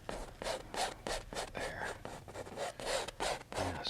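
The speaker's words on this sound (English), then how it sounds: "Scrape off all the excess paint. Just really get in there and scrape it." A painting knife scrapes excess oil paint off a canvas in repeated rhythmic rasping strokes, close and fairly quiet, with no talking.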